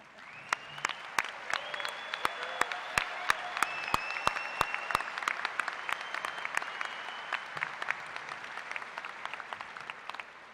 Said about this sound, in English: I ask you, graduates, to please stand and applaud their contribution to your success.